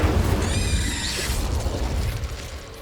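A Confringo blasting spell explosion in Hogwarts Legacy, a loud deep boom with a crackling, shattering burst and high ringing tones that fade into rumbling debris.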